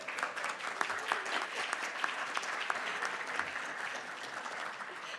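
Conference audience applauding at a research conference hall, steady dense clapping that holds for several seconds without pause, moderately distant and even.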